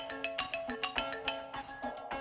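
A phone on speaker plays a melodic ringing tone in short rhythmic bursts, fairly faint and with no talking.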